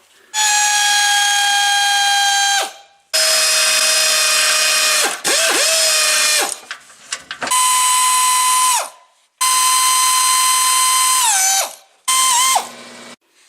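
Powered ratchet with an E16 socket removing inverted-Torx screws on a C8 Corvette dual-clutch transmission: loud, high motor whine in about six separate bursts, each ending with a dip in pitch before a short pause.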